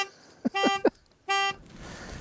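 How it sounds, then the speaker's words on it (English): A car alarm goes off on a clifftop at night. Several short pulsing tones are followed by a longer sustained blare, clear and fairly close, with quiet gaps in between. "This car's alarm's going off as we're shooting."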